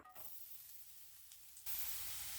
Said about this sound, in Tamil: எண்ணெய் காஞ்சிருச்சு பொடியை நறுக்கி வச்சுருந்த பெரிய வெங்காயம் ரெண்டு ஆட் பண்ணிடலாம்